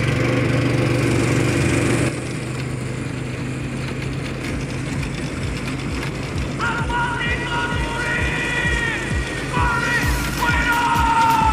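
A car engine runs steadily at a low idle, then hums on as driving gets under way, with some mechanical rattling and faint higher tones over the constant drone.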